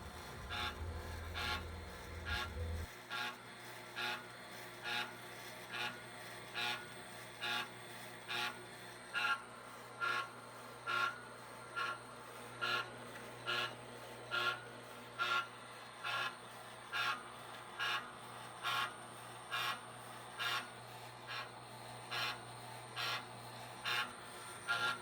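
A cocoa butter oil extraction machine runs with a steady, faint mechanical cycle, a regular rhythmic thump-and-rasp repeating about once a second over a low hum.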